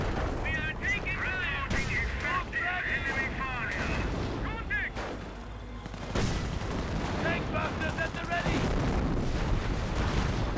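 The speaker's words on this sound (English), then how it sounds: "Incendiary mortar there on that garrison." Incendiary mortar barrage in the World War II strategy game Company of Heroes, heavy overlapping booms and crackling fire dense throughout, with a voice talking over it.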